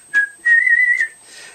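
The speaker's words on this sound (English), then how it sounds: "These working workers whistled and smiled all the way to work." A single whistler produces a short note followed by a longer sustained tone, clear and close in a quiet setting, a cheerful workers' whistle.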